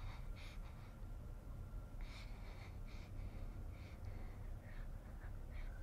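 Heavy, gasping breaths of a female character hiding in The Evil Within 2, a horror video game, repeating in uneven bursts over a steady dark background rumble, with no talk.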